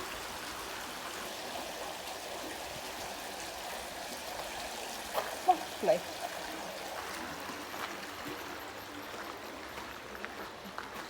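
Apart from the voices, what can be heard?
running water stream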